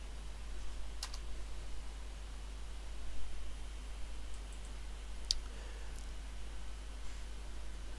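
A computer mouse clicks while working in CAD software: a couple of faint, sharp clicks, spaced seconds apart, over a steady hiss and a strong low hum.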